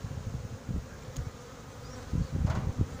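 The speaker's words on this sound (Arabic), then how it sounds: "هناك عدة خلايا في هذه المنطقة في هذا المنحل" Honey bees buzz around several hives in an apiary, a close, continuous hum with louder swells as bees pass near.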